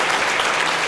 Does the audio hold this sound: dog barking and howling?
no